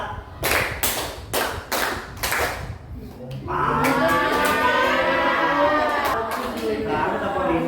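A classroom does a counted clapping exercise: several sharp, evenly spaced group claps ring out, then a loud sustained wailing tone takes over while a few more scattered claps break through.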